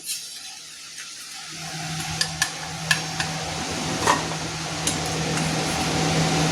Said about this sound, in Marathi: आता बघा एक एक करून सगळे तळून घेते मी भजे